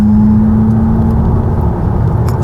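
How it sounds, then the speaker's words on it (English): An artificial digital engine sound from a Smart #1 BRABUS electric SUV while accelerating, a steady synthetic hum and whir with a droning low tone, loud and close, no talk. "there is a very mild attempt at a digital engine sound"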